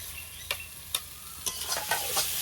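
Masala frying in released oil sizzles steadily, with sharp scraping and clinking strokes of a spatula against the pan at irregular intervals as tomato goes in.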